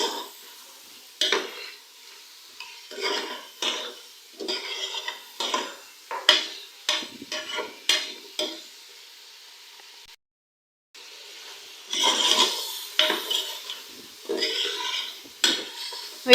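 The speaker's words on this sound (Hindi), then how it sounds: "गोश्त को तकरीबन हम लोग 5 से 7 मिनट तक फ्राई करेंगे।" Beef pieces frying in a pot for bhuna gosht, stirred with a utensil: repeated scraping and clinking strokes over a soft sizzle, close and steady, with a brief pause partway through.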